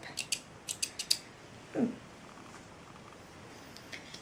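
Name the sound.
scissors cutting threads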